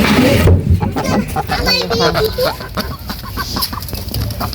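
Ducks quacking and squawking close by amid farmyard clatter as they are let out, with a voice speaking over the birds throughout.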